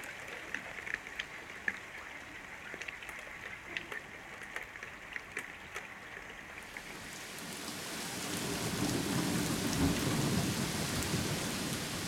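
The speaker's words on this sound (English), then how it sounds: "The rain begins." Rain and a thunderstorm over mountain ponds: scattered drops and distant rumbles at first, then a heavy, steady downpour swells in and roars for the second half.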